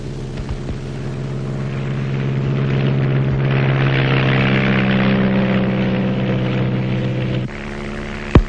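Two small propeller planes flying over rainforest, a steady droning engine hum with strong low harmonics that swells slightly mid-way, then shifts pitch near the end, with a brief knock at the close.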